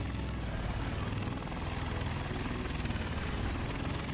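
A V-22 Osprey tiltrotor aircraft in the video game War Tycoon drones with a loud, steady rotor and engine roar that holds constant throughout, with no one speaking.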